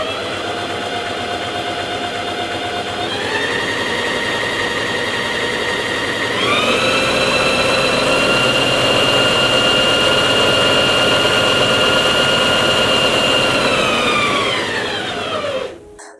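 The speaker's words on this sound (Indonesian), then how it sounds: "kita akan dengerin gimana suaranya, getarannya gimana, dan apakah mesin jahit ini cocok buat kalian" A Singer Heavy Duty 4432 sewing machine runs steadily and close, its motor whine stepping up in speed twice and then winding down at the end, with no talk.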